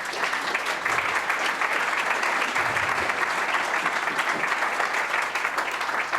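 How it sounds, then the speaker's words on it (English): An audience gives a sustained round of applause for panellists at a forum on smart grids and micro grids, with dense even clapping throughout. "give all our panellists a big round of applause"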